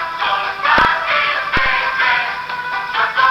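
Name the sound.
song played back from a camera's low-quality audio recorder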